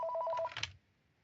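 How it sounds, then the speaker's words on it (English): A telephone rings with a quick electronic trill, a short burst of repeated tones that cuts off abruptly, leaving quiet behind. "Unexpected phone call."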